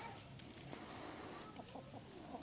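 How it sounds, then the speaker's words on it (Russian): Large roosters cluck softly in a yard on a mountain farm, with short scattered clucks over faint outdoor background noise. "Такие крупные, хорошие петушки."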